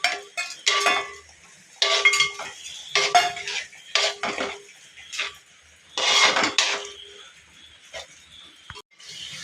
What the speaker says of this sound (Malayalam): നന്നായിട്ടൊന്ന് ഇളക്കി അങ്ങോട്ട് കൂട്ടാം.